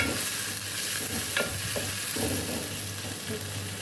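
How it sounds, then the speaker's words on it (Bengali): Onions frying in fish-frying oil in a pan, a steady close sizzle with a few scrapes of stirring, continuous and fairly loud, no voices. "পেঁয়াজটা ভাজা হয়ে আছে"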